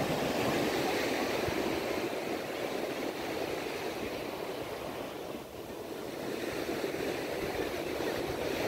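Sea waves wash onto the beach at Pondicherry in a steady, broad roar of surf with a slight dip and swell, fairly soft and continuous, with no voices.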